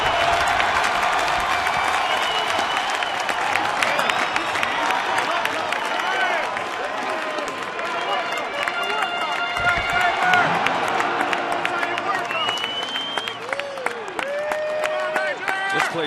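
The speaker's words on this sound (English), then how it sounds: "Crowd coming to their feet." Baseball stadium crowd at an Atlanta at Milwaukee game rising to its feet with a full count, two strikes and the final out pending: a dense, steady roar of cheering, whistles and shouts throughout.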